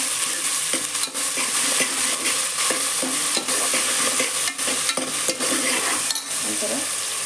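Tomato bath mixture stirred and fried in a pan, with steady sizzling and a scraping spoon rhythm that runs the whole time, close and loud, with no talking.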